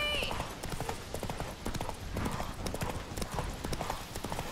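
Roach the horse galloping in The Witcher 3, with rapid rhythmic hoofbeats clattering close and loud throughout, a neigh faintly mixed in and speech over it.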